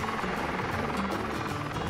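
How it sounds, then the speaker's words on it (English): A helicopter flies over a film set, its rotor beating in a continuous rhythmic thrum that fills the whole stretch at steady strength. "It's so crazy they're having all these helicopters."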